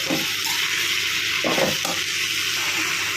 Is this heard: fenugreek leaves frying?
yes